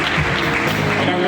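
Audience at an honorary award ceremony clapping together, a brief dense burst of applause heard up close with murmuring voices mixed in.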